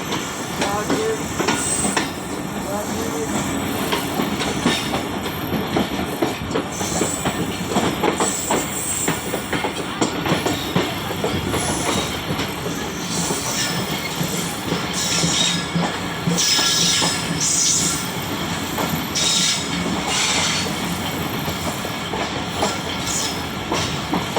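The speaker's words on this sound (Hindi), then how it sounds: "रेस लगी हुई है कराची एक्सप्रेस और सर सैयद एक्सप्रेस की" Karachi Express and Sir Syed Express, two passenger trains racing along parallel main and loop lines, give a loud, continuous rolling rumble with steady wheel clatter and hiss throughout.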